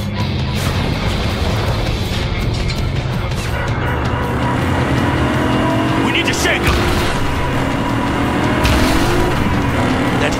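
Car engine roars continuously during a high-speed chase in Cyberpunk 2077, loud and sustained with rising revs, mixed with road noise and game sound effects.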